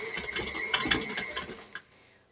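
A stand mixer creams 2 cups of sugar with 1 cup of butter for a fruitcake batter. It gives a steady mechanical whirring with rhythmic clattering pulses that end abruptly near the finish.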